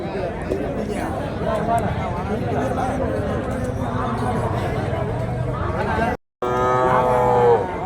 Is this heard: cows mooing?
yes